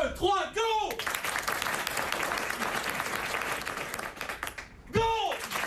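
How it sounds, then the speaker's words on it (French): A theatre audience at the Rideau Rouge in Lyon breaks into loud, sustained applause on command, steady clapping for several seconds, with someone speaking briefly before and after. "ils peuvent même applaudir sur commande"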